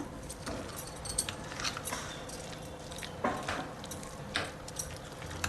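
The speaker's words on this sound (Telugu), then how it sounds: "పోపు ఆనియన్స్ అంతా మంచిగా కలుపుకుందాం" Onions being stirred into the tempering in a pan for vankaya kothimeera pachadi, an eggplant and coriander chutney, make light, irregular scrapes and metallic clinks of a spoon against the pan, quiet and close.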